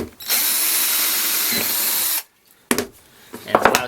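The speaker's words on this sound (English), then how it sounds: "And it allows me to drill a hole." A power drill bores a hole through a Milescraft Drillblock guide, whining loudly and steadily for about two seconds before stopping, followed by brief clattering handling noises.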